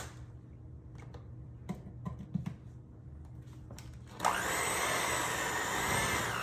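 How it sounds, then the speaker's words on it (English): A hand mixer starts up partway through, creaming room-temperature cream cheese with peanut butter for a peanut butter pie. A steady, loud, broadband whir follows a few quiet kitchen clicks and knocks. "Let's plug up our hand mixer."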